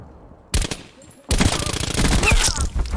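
A new gun fires in Call of Duty Cold War: two loud, rapid automatic bursts, a short one and then a longer sustained stream of shots, close and dominant.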